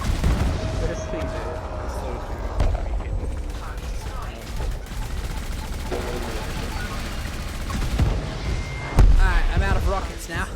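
Rockets fired from the Scorpion SRV ground vehicle in Elite Dangerous, a string of repeated blasts and impacts over mechanical game noise, with a louder burst near the end and talk mixed in.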